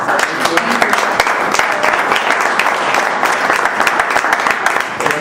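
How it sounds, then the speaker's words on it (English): Steady, loud applause from a crowd, dense clapping that fills the whole stretch without a break. "Let's give a big round of applause for Nida, what she said earlier."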